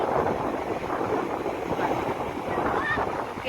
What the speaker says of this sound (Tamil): அலை நல்லா வருதா பாருங்கள். அப்படியே காற்று நல்லா ஜில்லுன்னு அடிக்குது